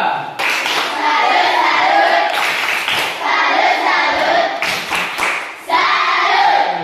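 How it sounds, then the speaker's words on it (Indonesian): A classroom of students claps a rhythmic salute for a classmate, loud and close, in bursts with brief pauses between rounds, some children's voices mixed in. "tepuk salut dulu untuk kawan kita"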